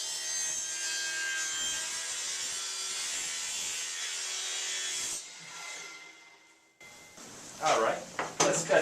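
A power miter saw set at 45 degrees cuts through wooden crown molding held in a jig, a steady broadband whine running for about five seconds before dropping away, followed by a few short scraping and clattering handling sounds.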